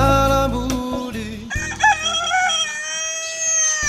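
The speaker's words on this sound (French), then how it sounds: "Dès le coq chante" Rooster crows loudly and close at dawn in rural Madagascar, a full drawn-out cock-a-doodle-doo over other clucking fowl, with no voices.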